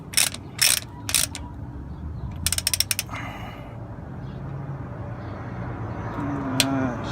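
A hand ratchet tightens the rear differential drain plug on a 2010-2012 Hyundai Genesis Coupe 2.0T, giving a few sharp clicking bursts close by over a steady low mechanical background.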